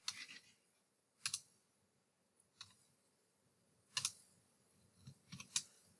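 Typing on a computer keyboard while writing website code: a few sparse, quiet key clicks and taps in small clusters over near silence.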